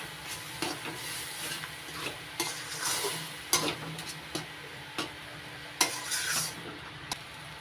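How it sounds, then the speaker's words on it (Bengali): Pointed gourd stuffing mixed with ground seed paste sautéing in a pan, with a steady soft sizzle broken by sharp scraping strokes of a spatula at irregular intervals, close and fairly quiet, with no talking. "এবার সব কিছু একসঙ্গে ভালো করে কষিয়ে নেব।"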